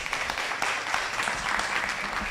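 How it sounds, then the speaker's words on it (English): Brief, moderate clapping from a conference audience for a speaker, an uneven patter of hands that stays fairly close and continuous with no voices over it. "Just a hand of applause for her."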